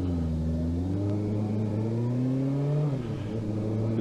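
A black car on an Isle of Wight road used for road racing, its engine a loud, close, continuous drone that climbs steadily in pitch, then dips briefly as if shifting gear before settling again, with no voices.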